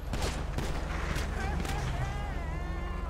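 Gunfire bursts from a GTA roleplay session ring out amid constant background noise, with sharp cracks early on and people talking over the scene throughout.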